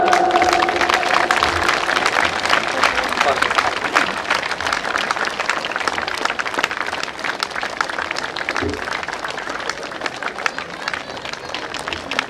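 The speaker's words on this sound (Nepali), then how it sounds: "यो अभिनन्दनका लागि जोरदार ताली कृपया यहाँले बजाइरहनु होला" Applause at an annual function ceremony for a Nepali FM radio station, loud and continuous dense clapping from a large audience throughout, with crowd noise and occasional voices mixed in.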